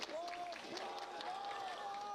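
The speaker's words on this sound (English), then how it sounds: "Hear that Berwick crowd." A home crowd at a high school baseball game cheers and claps in a steady din of voices and scattered applause heard from the broadcast booth, with whistle-like rising calls above the noise.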